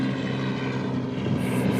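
A helicopter drones overhead as a continuous loud rotor and engine roar, steady and close, with no talking.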